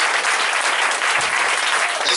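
A prayer-camp congregation applauds, steady, dense clapping from a large crowd throughout, loud and close.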